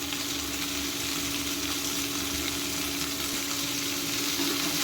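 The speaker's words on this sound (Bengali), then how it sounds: "এখন এইগুলো দিয়ে আর একটু কষিয়ে নেব, ভালো করে ভেজে নেব।" Beans, drumsticks and vegetables frying in a pan for Bengali sukto, a steady close sizzle with faint stirring and a constant hum running through, no voices.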